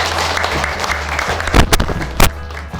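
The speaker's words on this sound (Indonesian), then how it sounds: "Kita berikan dulu aplaus kepada mereka." Audience applause at a community deliberation meeting in Kendari, a brief burst of clapping under background murmur, with two louder surges toward the end.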